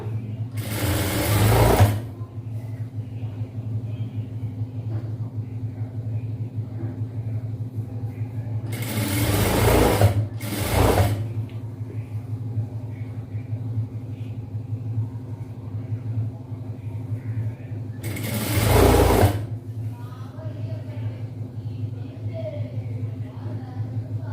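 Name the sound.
sewing machine stitching chudidhar fabric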